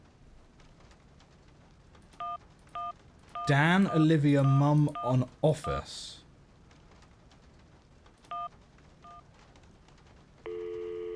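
Cell phone dialing tones in the video game Syberia: short paired beeps repeat at a steady pace. They sound alone at first, then under a burst of voicemail speech, and a sustained tone follows.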